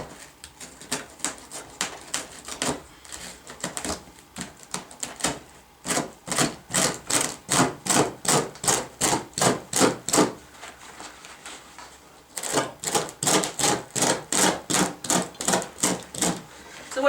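Carpet being torn up from a home office floor rips in repeated rhythmic bursts, each pull giving a rough tearing rasp, close by, with a brief pause before the pulling resumes.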